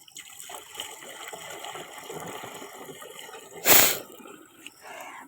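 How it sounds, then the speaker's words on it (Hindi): Water pouring into a tank in a village farm setting, where a liquid pesticide mix is prepared for spraying fields: a soft, steady trickle with dribbles, then one sharp loud splash near the end before the faint flow resumes. "और ये जा रही है टंकी में पानी।"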